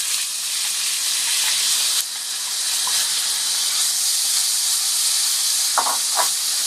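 Chopped onions hit hot oil in a karahi with whole cardamom and cinnamon, producing a loud, continuous sizzling hiss, and a couple of soft utensil taps come near the end.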